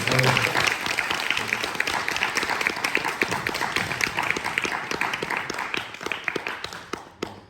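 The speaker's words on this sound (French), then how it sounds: "on peut l'applaudir" Applause from a workshop audience fills the room, dense and steady with many overlapping claps and some voices mixed in, thinning out toward the end.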